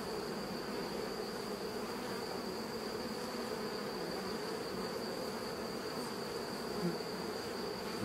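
Honeybees swarm out of hive number six in a dense, continuous buzzing drone, steady and fairly quiet, with a thin high whine running throughout.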